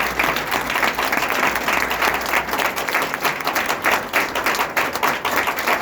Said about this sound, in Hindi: तो तालियां मैडम के लिए कम नहीं है।